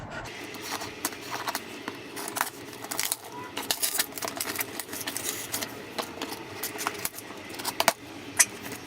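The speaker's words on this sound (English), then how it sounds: "I have my scissors." Scissors slicing and snipping through a large cardboard book box, a run of crisp irregular cuts, scrapes and clicks close by, with rustling and small taps between strokes.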